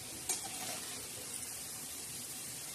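Wheat flour modak fry in oil with a soft, even sizzle and a brief clink near the start, otherwise quiet and steady with no talking.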